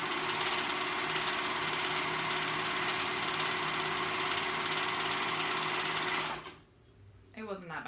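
A sewing machine stitches a tunic skirt in a steady, loud, continuous whir for about six seconds, then stops abruptly, leaving a quieter pause with faint handling noise at the end.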